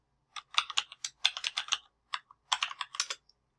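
A computer keyboard being typed on in rescue mode to re-enter a password, with quick clusters of crisp, close key clicks, short pauses between bursts and no talking.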